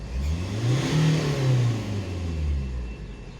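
A Ford Connect's engine is revved hard at full throttle during an exhaust emissions test, rising to a loud sustained roar that swells and eases over a few seconds, with no talking.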